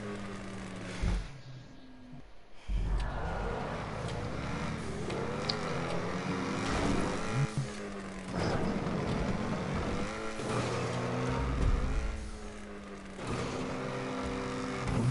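A car engine in GTA 5 Online, revving and droning almost continuously at varying pitch as the vehicle drives and jumps on a custom map, close and steady, with a brief lull early on.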